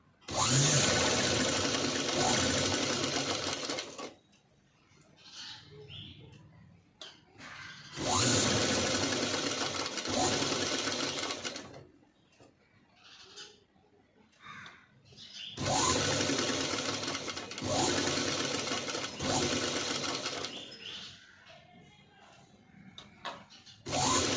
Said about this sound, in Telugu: ఇలా నీట్గా సెట్ చేసుకుంటూ పైపింగ్ వేసుకోవాలి.